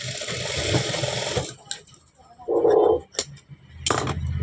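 Sewing machine stitching blouse pieces together, a short close mechanical run after a burst of talk, with a few clicks and handling noises around it.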